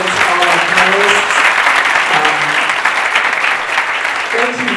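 A conference audience applauding panelists at the close of a panel discussion, steady loud clapping throughout with a voice talking over it at the start, midway and at the end.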